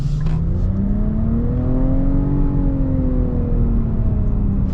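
A lifted 2022 Nissan Rogue accelerating with turbo lag, heard from inside as a loud continuous engine drone with a tone that slowly rises and then falls, over road noise and with no talking.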